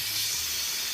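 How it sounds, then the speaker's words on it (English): Steam vents with a steady, loud hiss from a cooking pot of pork after twenty minutes of cooking, a continuous broadband rush lasting the whole second with a faint low rumble beneath and no talking. "I'm gonna release some of the"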